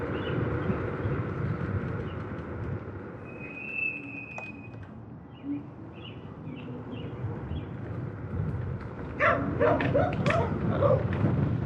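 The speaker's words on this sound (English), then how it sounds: "I don't want to get chased by the dog" Dog barks ring out at a distance over steady road and wind noise during a scooter ride, a brief yip early on and a cluster of barks toward the end.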